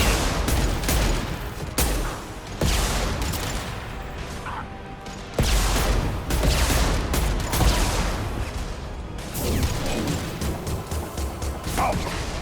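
Gunfire and impacts ring out in a Mass Effect 2 firefight: sharp repeated shots, crashes and whooshes in clustered bursts, loud and close, with occasional brief quiet gaps.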